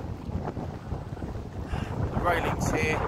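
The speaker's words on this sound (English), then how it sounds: "as you probably hear as well, very, very windy today" Strong gusty wind buffets the microphone beside the water at Oulton Broad among moored boats, a steady loud roar with a person talking faintly underneath.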